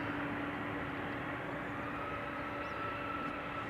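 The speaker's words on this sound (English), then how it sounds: "the Embraer's coming this way" An Embraer jet approaching at an airport, a steady, distant engine roar with a faint whine, continuous and even throughout with no voices.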